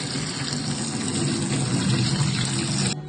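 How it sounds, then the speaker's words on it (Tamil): Cool water poured over blanched drumstick leaves, a continuous full gush of running liquid that holds steady for about three seconds and then cuts off abruptly. "கூலான தண்ணி ஊத்துதே."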